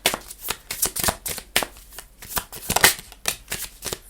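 Tarot cards shuffled by hand in steady, rapid riffling bursts, close and fairly loud, continuing without pause and with no talk.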